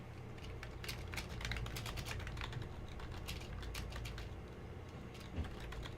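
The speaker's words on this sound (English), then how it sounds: "I'm typing a response" Someone types a chat reply on a laptop computer keyboard during an online tabletop gaming session, a continuous flurry of quick, close key taps with no talking over it.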